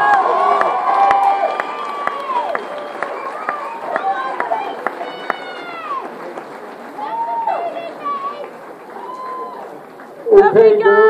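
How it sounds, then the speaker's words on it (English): Crowd at the Miss Plymouth 2014 pageant cheering the girls: loud, close, excited shouts and high voices over a busy chatter, with scattered claps and a sharp burst of noise near the end. "Give them a big round of applause."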